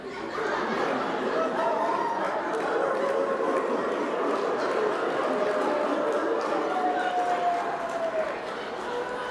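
A crowd of people imitate junkyard dogs, with many overlapping voices barking and woofing at once, mixed with chuckles and laughter in a lively, sustained din.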